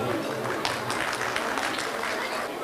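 A crowd at an opening ceremony applauds to welcome a speaker to the microphone, steady dense clapping held at an even level from start to end, with some voices mixed in.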